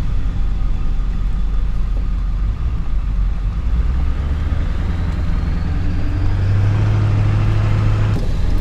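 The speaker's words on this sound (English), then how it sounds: "Here comes a forestry truck" A heavy forestry truck approaches and rumbles past on a narrow gravel road, its deep engine drone building and shifting as it nears, heard from inside a moving camper.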